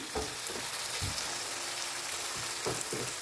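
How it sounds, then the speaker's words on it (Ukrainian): Steady crackling sizzle of onion and garlic frying in a pan, with a few soft thumps of stirring, continuous and fairly close. "Даємо до цибулі та чесничка, смажуємо."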